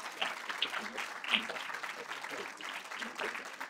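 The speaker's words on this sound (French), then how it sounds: "On peut l'applaudir bien fort." Applause from an audience at a literary prize meeting in Lausanne, a steady dense clatter of clapping lasting several seconds with a few sharper claps standing out, voices murmuring faintly underneath.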